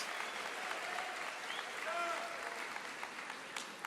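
Church congregation applauding, a dense, steady wash of many hands clapping from a crowd throughout, with faint voices mixed in.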